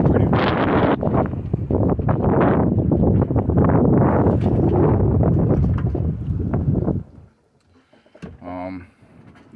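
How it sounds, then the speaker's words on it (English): Strong wind buffets a boat anchored in the middle of the Chesapeake Bay, a loud, steady roar and microphone rumble lasting about seven seconds, then dropping away as a voice speaks indoors. "Yeah, it's pretty windy,"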